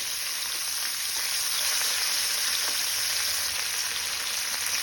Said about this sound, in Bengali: মাছগুলো খুব বেশি ভাজার দরকার নেই, শুধু এদিক ওদিক একটু সামান্য একটু ভেজে নেব।